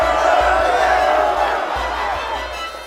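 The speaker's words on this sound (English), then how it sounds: "And what's with this crowd of people?" Crowd of people gathered at the guild inn in the Grand Kingdom video game, a steady murmur of many voices with occasional shouts, close and continuous.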